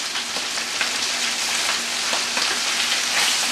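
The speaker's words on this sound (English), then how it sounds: "And you can hear it start to sizzle." A dense, steady crackling sizzle of charro beans (frijoles charros) frying in a hot pan, continuous and fairly loud with no voices.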